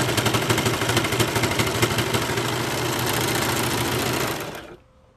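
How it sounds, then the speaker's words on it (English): A serger stitches and trims fabric for a twist headband, a loud, rapid mechanical chatter running steadily for several seconds before stopping abruptly near the end. "as it's going in the serger and cutting it off"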